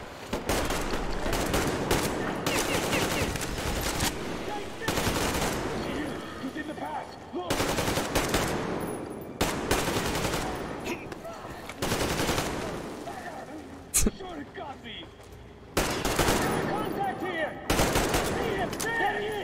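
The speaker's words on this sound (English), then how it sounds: "Oh, now we gotta shoot." Metro Exodus firefight at a guarded base: repeated loud bursts of automatic gunfire in long and short volleys, separated by brief pauses, with shouting voices heard between bursts.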